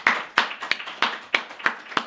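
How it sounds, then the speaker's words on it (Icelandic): A handful of people clap at a town council meeting, about seven distinct, fairly close claps in an uneven rhythm with short gaps between them. "Ég held við eigum að gefa bara þeim gott klapp."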